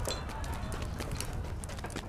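Horse hooves clip-clop steadily in the online game Lord of the Rings Online (LOTRO), a quick regular trotting patter that stays close and fairly quiet throughout, with no one speaking.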